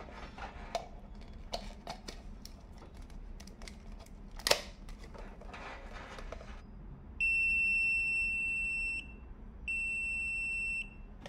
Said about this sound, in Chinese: 现在我的手只要碰到交换机的地线，电笔它就会响